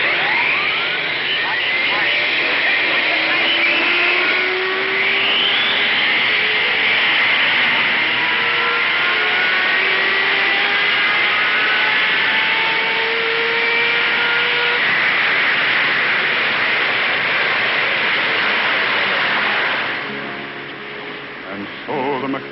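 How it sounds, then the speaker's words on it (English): Racing car engines at the 1956 Indianapolis race hold a steady, loud, continuous roar, with pitches rising and sliding as several cars rev together, then easing slightly near the end. "Gentlemen, start your engines."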